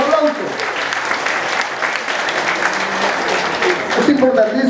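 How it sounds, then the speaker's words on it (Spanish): A gathered audience claps together at a diabetes testimony talk, steady and fairly loud throughout, with voices mixing into the applause and rising slightly near the end. "Un aplauso para nosotros."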